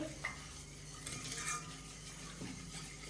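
Water and sugar syrup stirred in a pot with a thin lemon slice added, a spoon scraping and swishing steadily with faint clinks against the metal, close up and unbroken by talk.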